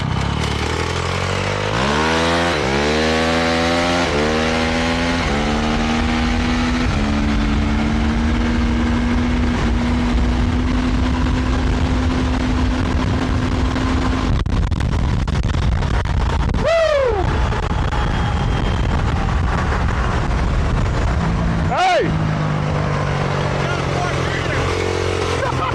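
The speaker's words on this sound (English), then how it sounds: "you can actually hear the motor rev up" An electric bike motor revs up with a rising whine that climbs in pitch over several seconds, then holds steady over continuous road and wind noise. Sharper swooping tones cut in later.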